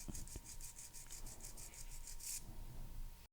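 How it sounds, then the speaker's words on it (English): Rhythmic back-and-forth rasping of a nail file shaping a very short square sculpted nail, steady strokes at close range with a faint hum underneath. "My second step in filing is straight out from the nail groove on the right."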